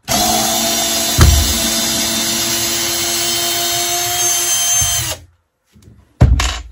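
A Teccpo PHD100D 18V cordless drill driver running at speed 1, a loud close steady motor whine with a sharp bump early on, cutting off near the end and then briefly restarting.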